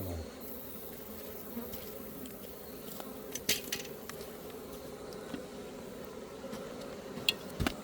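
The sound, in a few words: Western honey bees buzzing around hive entrance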